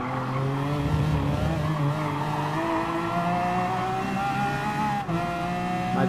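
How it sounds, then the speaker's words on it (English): A Lamborghini Aventador in the racing game Gran Turismo Sport revving high with an engine note that climbs steadily, tires squealing and skidding throughout, loud and continuous, with no talking. "My god, this car is so speedy."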